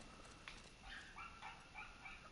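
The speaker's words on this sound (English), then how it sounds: "There's a dog outside, and it is louder than a motherfucker." A dog barks and yips outdoors in short bursts, faint and distant beneath a constant background hiss.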